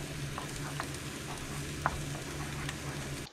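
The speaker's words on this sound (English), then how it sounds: "Stir our chili up a little bit." Canned chili is stirred on a hot Blackstone griddle, giving a steady close sizzle broken by a few light scrapes and taps of the utensil.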